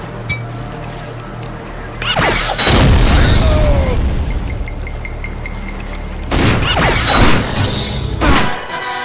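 Explosions in 007: Agent Under Fire: two heavy booming blasts a few seconds apart, each followed by a long crashing rumble and scattered debris noise, loud and close.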